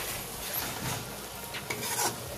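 Fried loach fish jhuri stirred in a pan after garam masala is added, with a steady, quiet scraping and rubbing of a spatula over a faint sizzle, close and without speech.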